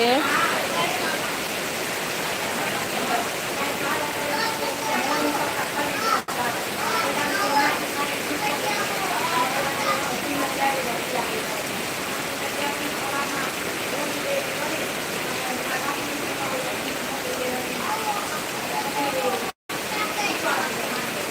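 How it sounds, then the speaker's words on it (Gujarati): Heavy unseasonal summer rain pours steadily in Keshod, a dense, continuous roar that stays loud and even throughout, with faint voices in the background. "જુઓ વરસાદ ખૂબ જ જોરદાર આવી રહ્યો છે"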